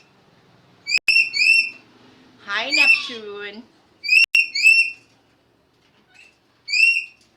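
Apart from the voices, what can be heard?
pet parrots whistling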